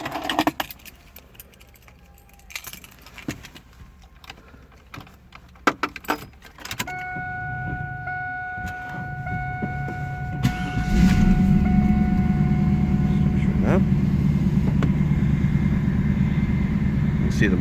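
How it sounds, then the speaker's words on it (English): A 2000 Pontiac Firehawk is started from inside the car: keys jangle and clicks sound first, then the engine cranks and catches, settling into a steady loud idle rumble. "We're going to start the car as you requested."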